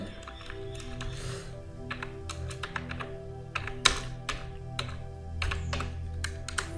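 Rapid keystrokes on a computer keyboard while a comment is typed into relay simulator software, irregular clicky taps close up over a faint steady hum.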